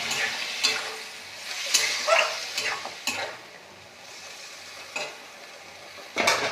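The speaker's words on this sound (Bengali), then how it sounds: "ঢাকনাটা খুলে আবার নাড়িয়ে চালিয়ে আমি অল্প একটু জল দিয়ে দেবো।" Eggplant being cooked with heads in a pan, with a splash of water just added, sizzles steadily while a utensil stirs it in repeated scraping strokes at uneven intervals.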